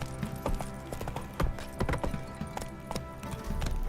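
Roach the horse from The Witcher 3 trots along, hooves clip-clopping in a steady, close rhythm with an occasional snort or whinny and a brief spoken command.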